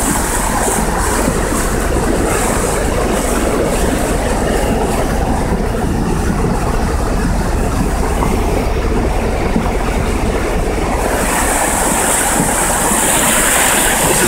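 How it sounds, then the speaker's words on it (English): Flash flood water in Waldo Canyon rushes past a truck in a loud, continuous broadband roar that stays constant throughout, with a brighter hissing edge near the end. "Look at that water."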